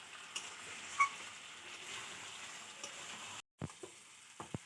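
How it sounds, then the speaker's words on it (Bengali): Meat being sautéed in a wok after ginger has been added, giving a low, steady sizzling hiss with a few scraping stirs near the end. "মাংস কষানো হয়ে গেছে"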